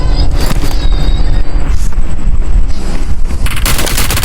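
Gunfire in a PUBG custom game: loud, rapid bursts of shots crackle nearly continuously, with a dense flurry of rounds near the end.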